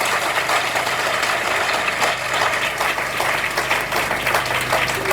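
Church congregation applauding and cheering to acclaim God during a worship service, a dense, steady wash of clapping filling the room for several seconds with a low hum underneath.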